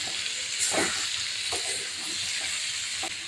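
Potato and flat bean bhaji frying in a pan, a steady soft sizzle and hiss throughout with a few brief stirring scrapes, fairly quiet and close.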